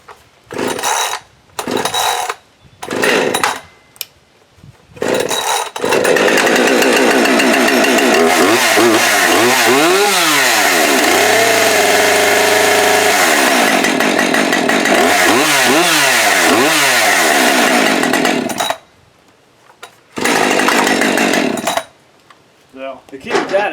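A Husqvarna 130 gas chainsaw with the choke on gets several short pull-start bursts, then catches and runs loudly up close, revving up and down before dropping to idle and cutting out, with a few more brief bursts at the end.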